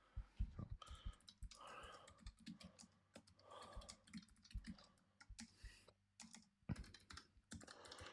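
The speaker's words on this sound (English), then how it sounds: "Actually, maybe I'll type it in there." Typing on a computer keyboard, a close stream of quick uneven key clicks, fairly quiet, with brief pauses between runs of keystrokes.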